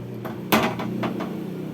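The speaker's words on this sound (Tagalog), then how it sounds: "Tanggalin ko lamang dito yung mga takip." Covers being lifted off two power amplifiers, an Ace LX18 and a Joson Saturn Mini, with one loud metallic clunk of a panel and a few lighter knocks and rattles nearby, no talking.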